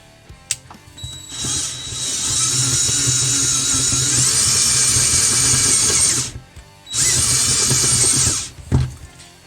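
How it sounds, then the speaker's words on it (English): A power drill whirs loudly in two long bursts separated by a short pause, with a few clicks and knocks before and after. "we might as well drill it like this and then sand it down"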